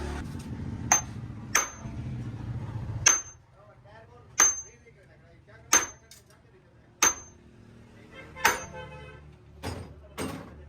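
Metal parts clank in a workshop as a suspension bush is pressed into a vehicle's front suspension, giving sharp, evenly spaced hammer-like knocks about once a second, each with a short ringing tail.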